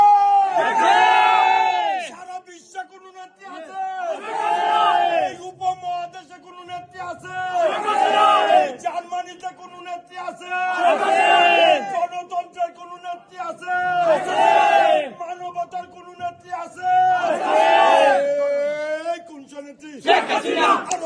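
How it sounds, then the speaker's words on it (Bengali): A crowd of Awami League supporters in Germany chanting the Joy Bangla slogan, loud rhythmic group shouts repeating in regular bursts every few seconds, voices in unison with sustained tones across the whole stretch. "আপনারা একটু স্লোগানের মাধ্যমে আবার একটু বিদায় দিতে চাই আপা প্লিজ জয় বাংলা স্লোগান"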